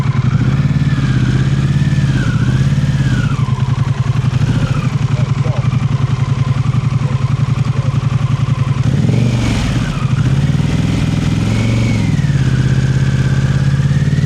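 A motorcycle engine idles and revs loudly and close by during a group riding lesson, with repeated throttle swells and falls, while an instructor talks over it.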